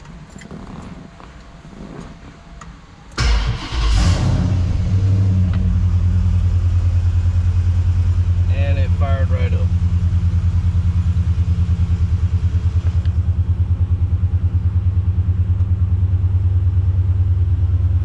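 A 1968 Dodge Charger with a swapped 5.7 Gen 3 Hemi running on E85 cranks briefly after a quiet start, then catches and settles into a loud, steady, close rumbling idle that continues to the end.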